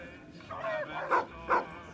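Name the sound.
dog barking in Fallout: New Vegas video game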